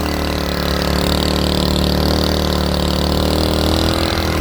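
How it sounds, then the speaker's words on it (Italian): A motorcycle ridden through a dried-out mangrove forest toward Cabeza Pequeña, its engine droning loud and steady with a constant hum, mixed with rushing wind noise across the whole stretch and no talk. "Stiamo andando in moto a Cabasera Pequena, molto probabilmente non si sentirà niente per il vento e per il motore"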